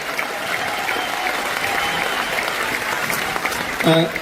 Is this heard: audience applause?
yes